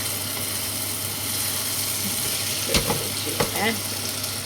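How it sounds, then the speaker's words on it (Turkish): Rice toasting in a pan for stuffed grape leaves and onion dolma, giving a steady soft sizzle with a few brief scraping stirs near the end over a low background hum. "Şöyle pirincim şöyle kavrulsun."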